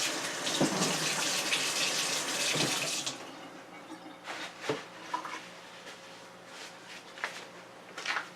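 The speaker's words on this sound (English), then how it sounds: "Gotta wash my hands." Water gushes from a kitchen tap for about three seconds while hands are washed, then stops, followed by scattered splashes, drips and handling sounds nearby, with no talking.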